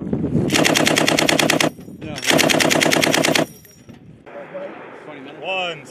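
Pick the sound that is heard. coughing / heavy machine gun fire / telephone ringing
heavy machine gun fire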